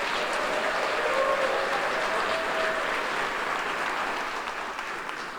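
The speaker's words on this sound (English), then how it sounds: "Give them a round of applause" A crowd claps steadily at a police academy graduation ceremony, sustained applause that slowly fades toward the end.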